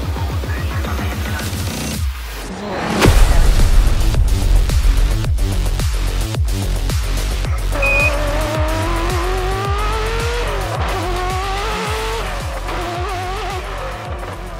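A Ferrari F40 LM race car screams past at high revs, its engine note rising and falling through gear changes with a sharp burst of tire noise, loud and close with no talk.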